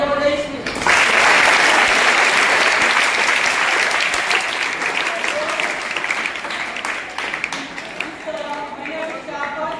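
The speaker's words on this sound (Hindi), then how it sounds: "तालियां बजाइए इसकी।" A school audience breaks into sustained applause, a dense wash of many hands clapping that rises quickly, stays loud for several seconds, then gradually thins toward the end.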